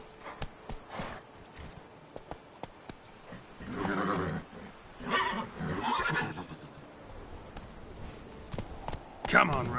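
In Witcher 3: Blood and Wine, the horse Roach neighs and whinnies in a few loud bursts over soft trotting hoofbeats, while a voice speaks in between.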